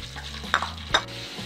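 Beef for dendeng lambok frying in oil, a low steady sizzle with two quick scraping stirs, close and quiet, no voices.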